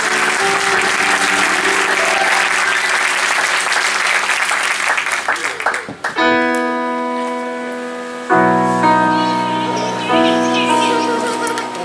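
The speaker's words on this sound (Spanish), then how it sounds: "Un aplauso para él." A television show audience bursts into loud, sustained applause for about six seconds, then the clapping gives way to steady musical tones.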